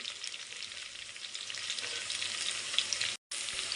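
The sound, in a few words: green chillies frying with onions for chicken biryani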